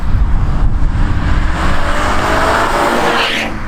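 Supercharged Toyota GT86 engine accelerating hard, a loud continuous rising drone with a steady climb in pitch and strong low rumble, heard from close by without talk.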